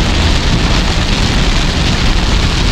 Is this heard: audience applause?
no